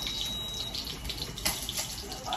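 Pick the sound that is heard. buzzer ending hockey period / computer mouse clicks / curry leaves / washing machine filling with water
washing machine filling with water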